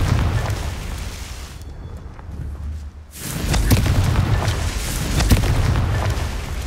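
A Confringo blasting spell in Hogwarts Legacy detonates with a heavy boom, and deep rumbling debris follows; a brief quieter gap comes before a second loud, crackling blast that keeps roaring.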